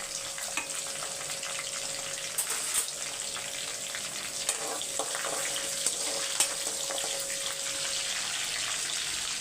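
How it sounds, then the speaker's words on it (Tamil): Chicken being stirred and fried in a pan with fennel, cloves, cinnamon, curry leaves and green chilies, giving a constant hissing sizzle with scattered soft clicks and scrapes of stirring. "இப்போ இந்த பக்கம் வந்து சிக்கனை பரட்டி விட்டுடலாம்"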